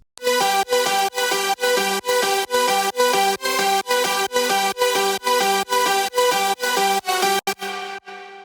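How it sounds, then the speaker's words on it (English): A bright, buzzy progressive house synth main lead pulses in steady rhythmic chord stabs, loud and sustained, with a quick drop at the end. "we of course also have our main lead, which sounds like this."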